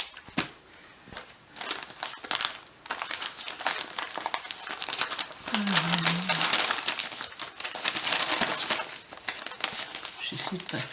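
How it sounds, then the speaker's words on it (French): Paper packaging being cut open with scissors and crinkled, with rustling and snipping sounds in short bursts at close range, some faint talk in between. "je mets les ciseaux, voilà."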